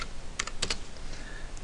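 Typing on a computer keyboard during Visual Basic game programming: a few quick, close keystroke clicks in two short pairs, alone over a faint steady background hiss.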